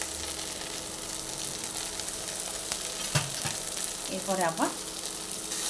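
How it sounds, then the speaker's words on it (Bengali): Tomatoes frying together with onions in a pan give off a steady close sizzle, with a few stirring scrapes late on and a brief voice speaking over it. "একসঙ্গে পেঁয়াজের সঙ্গে মিশিয়ে ভেজে নিচ্ছি।"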